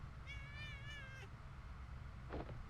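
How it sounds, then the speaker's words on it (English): A cat in the Impostor Factory video game gives a clear, warbling meow of about a second, then a short rough cry a moment later, over a low steady game hum. "You upset the cat."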